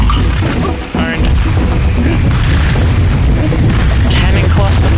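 Loud, booming cannon blasts pound repeatedly in quick succession in the video game Donkey Kong Country Returns, heavy and dense, with crashing impacts layered throughout.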